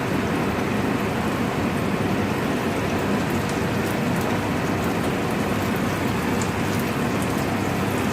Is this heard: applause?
no